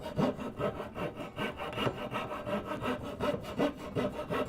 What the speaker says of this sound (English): Moving back and forth, kind of angling the blade as I make my cut.